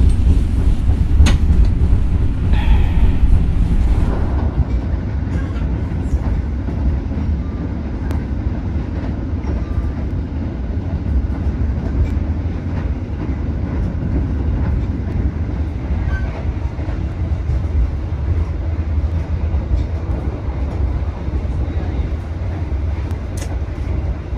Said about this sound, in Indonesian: kita sekarang sudah berada di dalam kereta api Gumarang kelas bisnis